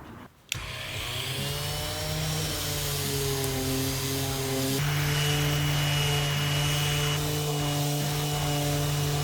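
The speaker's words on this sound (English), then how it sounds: "it was the perfect weather to sand everything smooth" A power sander smoothing a wooden sideboard starts abruptly after a short pause, then runs as a loud continuous motor whine with a steady droning hum that shifts slightly in pitch and holds to the end.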